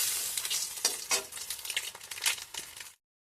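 Eggs fry in hot oil in a home kitchen pan, with a continuous crackling sizzle broken by several scraping stir strokes, close and clear, then cutting off abruptly.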